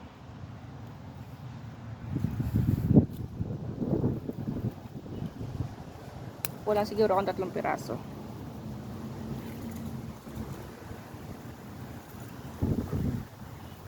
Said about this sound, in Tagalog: Hangin ngayon dito ah. Lakas ng hangin.